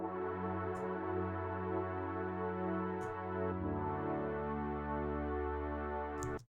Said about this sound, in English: I'm going to actually set to 8 voices and just see what that sounds like.